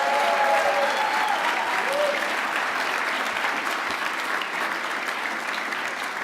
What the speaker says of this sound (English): Let us give those young people from Luther Burbank and John Seal a round of